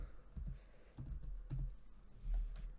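Soft keystrokes on a computer keyboard come in short irregular bursts, quiet and close, with no talking.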